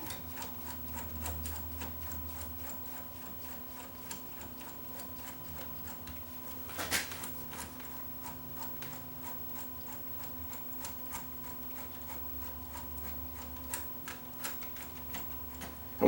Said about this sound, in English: The same motor is running. Now you see what happens. It starts to pull the tape out